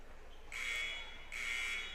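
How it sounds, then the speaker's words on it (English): Two long electronic blasts of a basketball game's 3-minute buzzer in a school gym at a boys' high school game between Hill City and Spearfish, each about three-quarters of a second, loud and ringing over a low crowd murmur. "As the 3-minute buzzer sounds here in Ginn's Gym"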